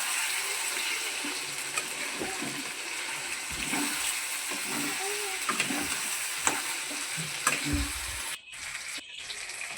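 Spiced food sautés in a pan with red chilli powder, giving a constant close sizzle. Scattered stirring scrapes run through it, and the sizzle cuts out briefly near the end.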